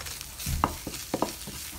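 Chicken and onions frying with spices in a pan, a soft sizzle under scattered stirring knocks and scrapes.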